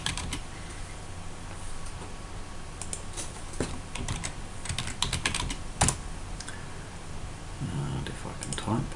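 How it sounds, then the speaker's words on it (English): Steady typing on a computer keyboard, with quick, irregular key clicks close by and a louder keystroke now and then, over quiet room noise. "And if I can type,"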